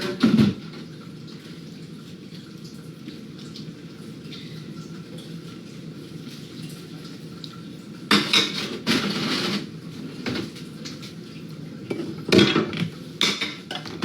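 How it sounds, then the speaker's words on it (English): Water runs steadily in a sink while dishes clink and clatter now and then, with bursts of louder scrubbing and knocking toward the end. "I'm doing my dishes."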